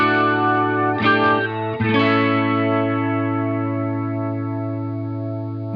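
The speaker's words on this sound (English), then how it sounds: "when it adds in those new overtones, we start to hear other instruments emerge" A guitar runs through a Boss MO-2 Multi-Overtone pedal, its chords rich with added overtones and a shimmering, organ-like swirl; two strummed chords ring out, then sustain and slowly fade on their own.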